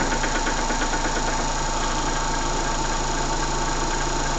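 A small handmade model engine running on compressed air chugs steadily at an even, rapid rhythm, close and loud with a constant mechanical hum, alone with no talk.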